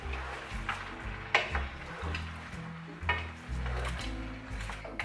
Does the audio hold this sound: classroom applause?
no